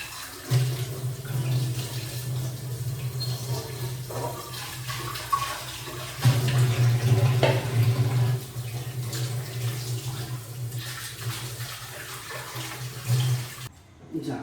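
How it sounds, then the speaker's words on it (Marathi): Tap water runs steadily into a kadhai (wok) being washed in a home kitchen sink, a continuous splashing hiss with a low drumming tone that shifts as the pan moves, stopping abruptly near the end. "धुवून घेऊया थोडीशी आणि मग चालू करूया."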